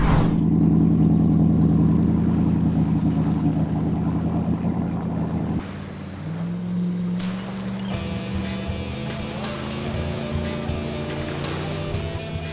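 A racing boat engine roars loudly on the water, holding a steady drone before dipping and then climbing again in a revving, accelerating pitch.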